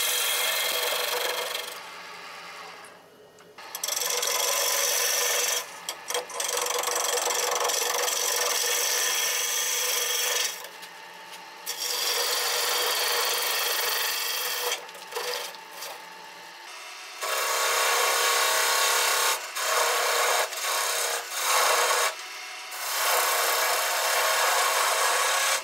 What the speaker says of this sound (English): I use a half inch ball gouge to round the piece.